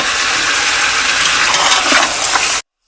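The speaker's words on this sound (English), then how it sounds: "So we're roasting our beef in our ghee" Beef roasting in hot ghee with masala and salt for Afghani Kabuli pulao, a steady loud sizzle and fry with occasional stirring, continuous until it cuts off abruptly.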